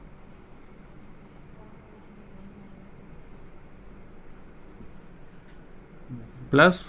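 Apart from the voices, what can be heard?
writing an equation on a board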